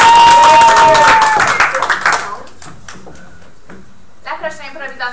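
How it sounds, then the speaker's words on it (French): Audience at a school improv match applauding both teams, loud clapping with a whistle for about two seconds that fades into scattered claps, with a voice and crowd noise near the end. "On applaudit les deux équipes!"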